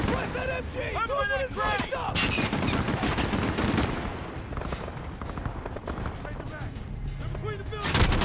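Dense, rapid gunfire rattles through a Call of Duty: Modern Warfare match, with bursts and explosions layered under excited players shouting over the shooting.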